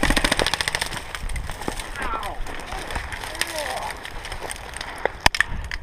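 Airsoft guns firing on an outdoor field during an assault game, rapid clattering bursts up front easing into scattered single shots, with players shouting and talking throughout.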